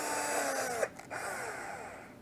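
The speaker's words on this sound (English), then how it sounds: "didn't quite make it with that drill bit either." A power drill bores into an AR60 8mm steel axle shaft with a drill bit, a steady whining grind that briefly dips mid-way before resuming, faint and continuous.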